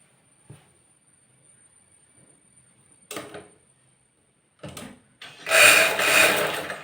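A sewing machine stitches the folded hem of a chudithar pant, with a couple of short whirring bursts followed by a louder, sustained run of rapid stitching near the end, amid otherwise quiet surroundings.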